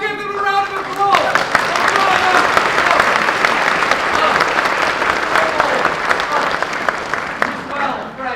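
Audience applause after a comic stage performance of Hamlet, a dense, loud burst of clapping from a crowd that swells quickly after the first second and holds steady for several seconds before easing slightly at the end.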